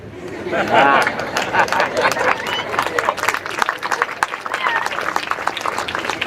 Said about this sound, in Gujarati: આ જેટલા મિત્રોએ તાળી પાડી